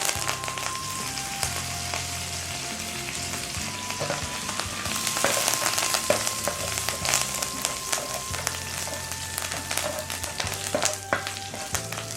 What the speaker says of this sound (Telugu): కొద్దిగా నూనె వేసుకొని వేడెక్కాక ఆవాలు, జీలకర్ర మరియు కరివేపాకు వేసి 1 నిమిషం పాటు ఫ్రై చేయండి